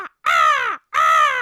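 A person imitates crow caws to call wild birds, giving two long, loud, harsh caws close to the microphone with a short silent gap between them.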